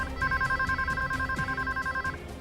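A telephone rings in a hotel room, a steady electronic trill repeating in quick pulses, fairly clear over a low background hum.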